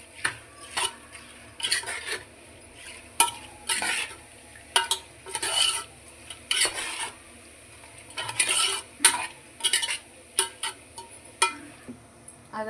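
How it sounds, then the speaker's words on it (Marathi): A spoon stirs chicken biryani marinade mixed with fried onions, producing irregular soft scraping and clinking strokes against the pot, close and fairly quiet. "स्टर करून घेते।"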